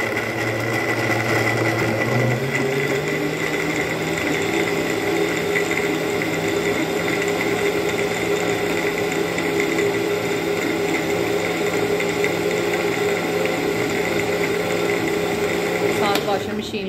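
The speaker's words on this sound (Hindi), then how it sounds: "साथ वॉशिंग मशीन लगा दी है। लगा दी वॉशिंग मशीन?" Washing machine running at home with a steady motor hum and whir that shifts pitch slightly early on, continuous and fairly loud throughout, with no talk over it.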